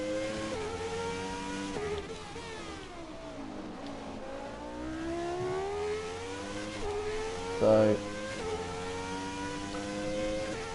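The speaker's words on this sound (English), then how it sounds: "I do love this car. The engine noise, everything about this car is brilliant." An F1 car engine from the F1 2017 game at the Baku circuit, revving up and down through gear changes in a steady high-pitched whine, loud and continuous throughout with a brief word spoken over it.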